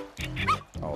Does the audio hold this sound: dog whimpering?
yes